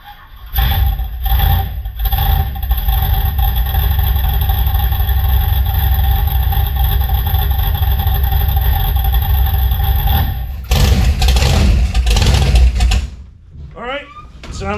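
A gasser car's engine cranks, fires and settles into a loud, steady idle after a carburetor install, running close by for about ten seconds before a burst of revving and shutdown.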